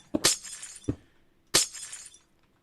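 Glass panes shatter in Minecraft, three separate bright crashes, each a sharp crack followed by a short tinkling tail, with brief quiet gaps between them and no speech.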